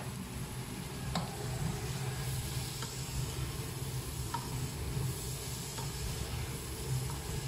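A spoon stirring onions in a pot with a steady soft sizzle and hiss throughout, punctuated by a few light scraping clicks, fairly quiet and continuous.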